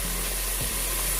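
Food fries in a pot while jollof rice is being prepared, giving a brief, steady sizzle with a low background hum, close and continuous with no talking.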